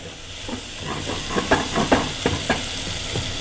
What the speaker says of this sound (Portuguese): eu gosto de fritar bem a cebola